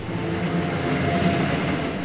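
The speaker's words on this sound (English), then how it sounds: "I would like to welcome you on board the Flåm Railway" A Flåm Railway mountain train in Norway rumbles along the rails with a steady, heavy mechanical roar and faint metallic whine, close and continuous.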